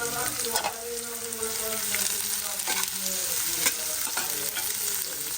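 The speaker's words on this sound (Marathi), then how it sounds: "कांदा फ्राय करायला टाकला" Chopped onion fries in a pan for poha, a steady close sizzle running throughout with scattered scrapes and clinks from stirring.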